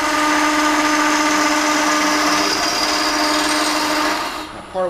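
A wood lathe gouge cuts a cove in a spindle with a loud, steady, close scraping and rasping that runs almost without a break, then cuts off just before the end.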